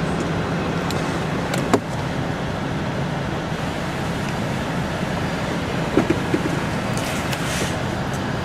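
A vehicle pulls away solo after its suspension is leveled, with no trailer behind it. Steady, fairly loud road and wind rumble continues throughout, with a few faint knocks and no talk.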